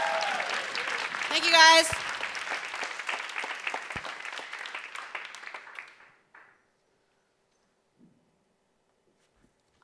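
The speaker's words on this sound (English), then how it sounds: "give it up for yourselves" Audience applause at a live young women's media event, a dense burst of clapping with a few whoops that fades out over several seconds, with a voice briefly speaking over it.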